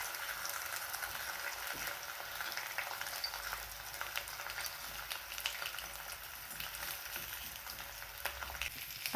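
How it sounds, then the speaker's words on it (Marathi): Sweet potato slices fry in a pan with a steady, soft hiss and crackle, heard close, with occasional faint stirring or turning knocks and no voices. "एका साईडने हे असे छान असे फ्राय झालेत"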